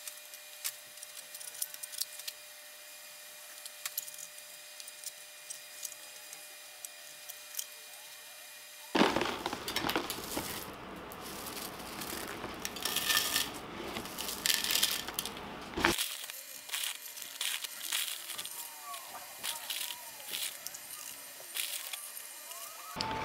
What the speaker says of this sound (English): And then I'll pack some lava rock in around the sides so the firebox doesn't move around.